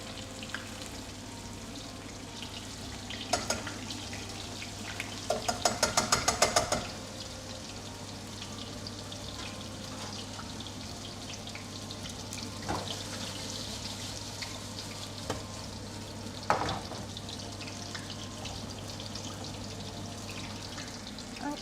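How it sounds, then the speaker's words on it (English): Country fried steak frying in hot oil in a pan gives a steady, fairly quiet sizzle, with a burst of crackling spatter early on and occasional louder pops. "Oh, it's doing it real fast though. It's frying real fast."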